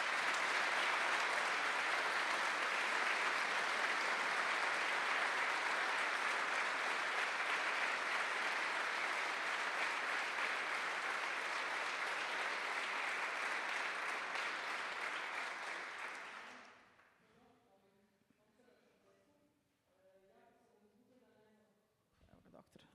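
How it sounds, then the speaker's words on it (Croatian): Sustained applause from a concert audience at an annual folk music concert, dense and loud for about sixteen seconds before fading out, followed by someone speaking. "najsrdačnije joj čestitamo i može još jedan pljesak"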